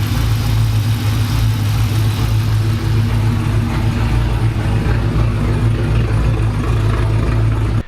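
A Hemi V8, freshly repaired after a cam install in a 2022 Durango, idles steadily and loudly with a deep, even rumble that holds unbroken from start to finish.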